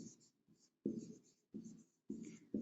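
A pen writes an example on paper, giving soft, close scratching strokes in short bursts separated by brief pauses, with no talk over it.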